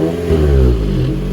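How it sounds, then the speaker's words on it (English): A Scion xB fitted with an aFe Takeda axle-back exhaust, effectively a muffler delete with center tips, revs loudly and close by in a short, deep rumbling burst. "I've got an AFE Takeda axle back exhaust out back."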